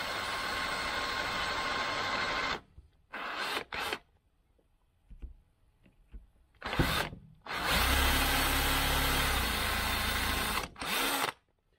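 A drill press whines loudly in long bursts, cutting a hole through a block of wood, with short pauses and quieter mechanical clicks between runs.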